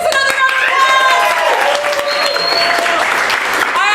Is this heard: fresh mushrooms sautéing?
no